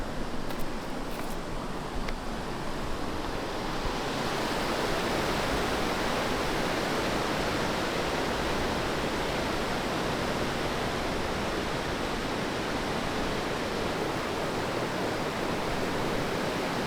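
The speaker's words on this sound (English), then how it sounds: "That is one raging river" A raging river in the Arctic Circle, its rushing water forming a loud, steady broadband roar that holds without a break from start to finish.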